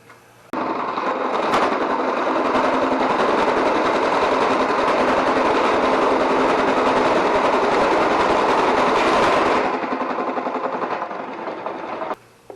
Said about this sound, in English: I've bored a hole all the way through to the plywood on the other side.